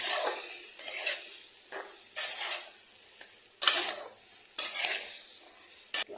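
Green jackfruit, potato and onion being sautéed in a pan, a soft steady sizzle broken by repeated scraping and clinking stirring strokes at irregular intervals, close and moderately quiet.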